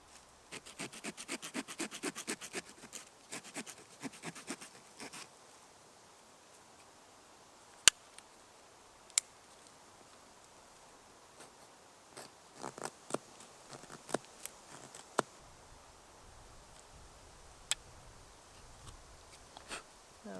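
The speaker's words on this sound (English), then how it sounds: "Using my saw first and then using my blade to creating this gap for some notching." A Victorinox Outrider pocket knife's small saw rasps through wood in quick rapid strokes, then goes quiet apart from scattered faint scrapes, clicks and knife cuts while a notch is carved, close-up and soft.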